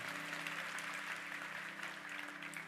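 A youth conference audience claps together in a hall, a fairly quiet, continuous spread of applause with faint voices underneath, heard from some distance.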